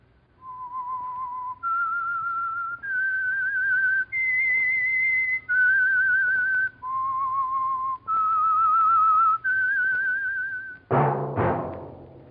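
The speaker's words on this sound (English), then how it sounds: "That whistle is your signal for the Signal Oil Program, The Whistler." Whistled theme signal of The Whistler radio program: a solo human whistle carrying a slow melody of eight held notes stepping up and down, clear and close, ending in a sharp orchestral stab.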